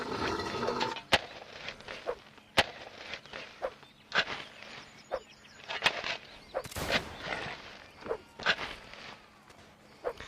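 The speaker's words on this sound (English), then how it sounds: "the howitzers and cannons of the Confederate State Artillery" Cannon and howitzer fire from Confederate artillery in a Mount & Blade North & South mod line battle, a string of sharp, well-spaced booms and cracks at irregular intervals, some near and loud, others more distant, over faint battlefield ambience.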